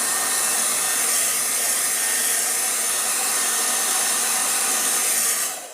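Affordable handheld hair dryer (blower) running, a loud steady broadband whoosh with a high-pitched whine, close and continuous, then cutting off at the end.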